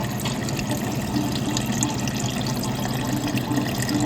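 Sanitizer foams and bubbles out of an Electro Freeze soft-serve machine, a steady, close, loud watery gurgle and fizz running unbroken throughout, with no voices.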